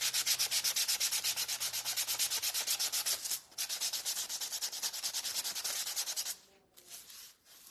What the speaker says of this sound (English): Let's sand our stand.